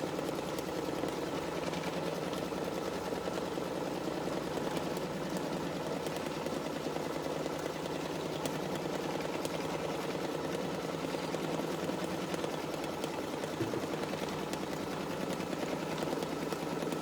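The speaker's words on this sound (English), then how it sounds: "So I have a smaller sewing machine, so I often just use this one for embroidery." A small sewing machine used as an embroidery machine stitches a fabric mask outline with a steady, continuous mechanical whir and hum that stays fairly quiet and level throughout, with no talking over it.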